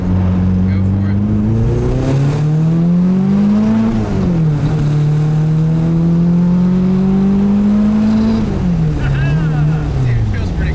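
A K-swapped Nissan Cefiro's engine revs hard through a full-throttle pull, the pitch climbing steadily, dipping at a shift near four seconds, then climbing again before easing off. It is loud and close throughout.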